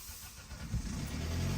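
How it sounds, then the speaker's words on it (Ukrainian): A car engine, likely a diesel, starts up after its ECU has been reflashed in a workshop. A low, muffled rumble builds and settles into a steady idle, heard faintly and with no talk over it. "Машинка заводиться"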